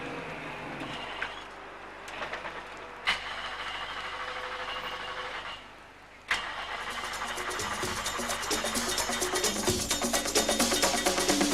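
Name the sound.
Ford Mustang rally car engine flooded on start line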